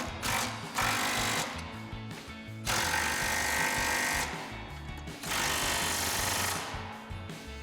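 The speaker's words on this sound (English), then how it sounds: "So we'll tighten this down with our 15 mil socket." A Ford Mustang GT strut mount bolt being tightened with a 15 mm socket on a power tool, loud rattling bursts alternating with quieter pauses, close up.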